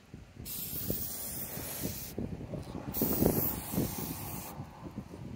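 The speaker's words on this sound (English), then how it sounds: "make sure it's spraying out properly" An aerosol spray can of headlight coating hisses in two long bursts close by, with wind rumbling underneath and a brief pause between sprays.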